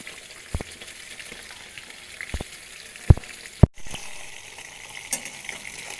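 Potato pieces frying in a pan for chicken biryani give a steady close sizzle with a few sharp clicks and knocks standing out, and no talking.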